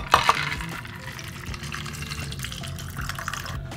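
A ginger beer cocktail strained over ice into a glass, a brief clink near the start and then a soft, continuous pour and trickle of liquid, close and quiet.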